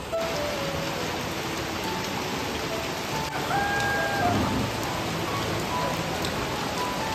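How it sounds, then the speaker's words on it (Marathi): Light drizzling rain falls steadily, a soft, even patter on surfaces that carries through the whole stretch with no one talking. "रिमझिम रिमझिम ना बारीक बारीक पाऊस पडायला सुरुवात झालेली आहे."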